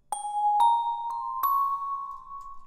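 A brush-bell synth preset, in a 2000s R&B production, plays four separate bell notes, each with a bright, sharp attack and a sustained ringing tail, clear and upfront with no voices.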